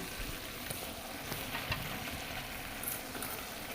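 Chopped local tomatoes go into a frying pan of cabbage, carrot, radish, potato and shrimp, producing a soft continuous sizzle with light stirring sounds throughout.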